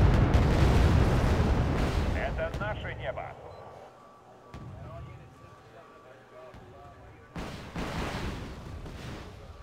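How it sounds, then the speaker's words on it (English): Artillery barrage explosions from the Wargame: Airland Battle strategy game, a rumbling burst at the start and another heavy blast near the end, loud and low, with gameplay talk running over them. "That is a lot of artillery coming in"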